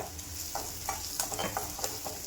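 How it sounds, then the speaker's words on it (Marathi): Chopped onion sizzles steadily in a hot pan while being stirred, with repeated scraping strokes over a continuous frying hiss, close and moderately loud, no talking. "आता आपला कांदा छान भाजलेला आहे"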